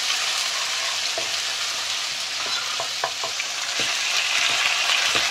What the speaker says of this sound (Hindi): उसमें ऑयल को गर्म करना है और तकरीबन 1 टेबलस्पून के करीब जो है ना आपने अदरक और लहसुन का पेस्ट इसमें ऐड